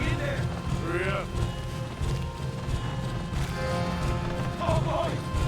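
Horses gallop in the video game Red Dead Redemption 2, with a steady, close clip-clop of hooves and a whinny, while characters talk over the running hoofbeats.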